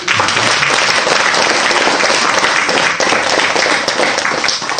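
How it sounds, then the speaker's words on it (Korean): Dense, steady applause from an audience at a Buddhist dharma talk, loud and continuous for the whole stretch with no break. "박수 쳐야지."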